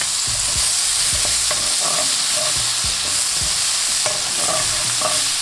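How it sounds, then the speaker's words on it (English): Tomatoes with garlic sautéing in a pan give a loud, constant close sizzle, with repeated soft scraping stirs underneath and no talking. "Now in with the tomatoes."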